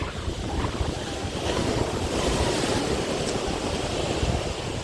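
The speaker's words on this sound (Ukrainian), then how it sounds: "дуже сильні хвилі, вони прямо збивають сніг" Strong Atlantic Ocean waves over 2 metres high crash continuously at Lagoa de Albufeira, Portugal, with heavy wind buffeting the microphone, a dense roaring wash with no voices.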